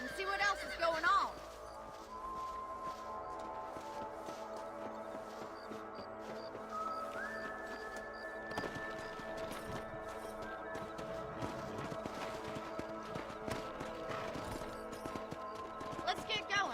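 Horse hooves clip-clopping in the video game Red Dead Redemption, a faint, steady rhythm of hoofbeats under a music bed, with a short louder burst near the start.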